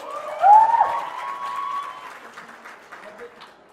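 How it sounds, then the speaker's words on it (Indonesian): An audience at an anniversary gathering claps, with scattered hand claps from the crowd running under a loud voice and cheering, fading to lighter clapping later. "Tepuk tangan lagi, tepuk tangan lagi."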